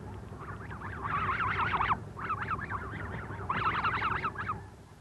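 A small flock of snow geese circles over Texas farmland, looking for a place to land, giving overlapping nasal honks in two dense bursts with a brief lull between them, steady and fairly close.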